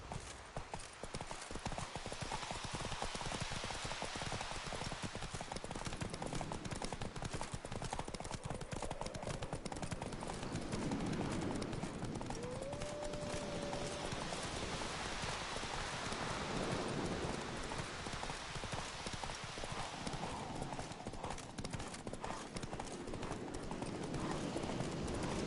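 Hoofbeats of Roach, a horse in the Witcher 3 video game, clip-clop steadily at a gallop for the whole stretch, loud and close, with a rain-like wash of noise underneath and a brief whinny partway through.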